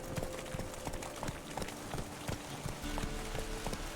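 In Witcher 3, the horse Roach gallops with a quick, steady clip-clop of hooves over a constant low background of game ambience, with no speech heard.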